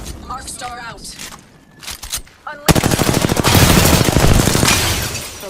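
Rapid automatic gunfire in the battle royale game Apex Legends erupts after a stretch of quieter game sounds and voice, then rattles on loud and close in dense, steady bursts while a player talks over it.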